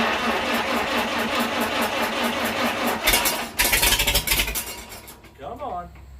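An old Farmall H tractor engine cranks and sputters as it tries to catch, in a loud, uneven burst of rough firing close by, with someone talking around it.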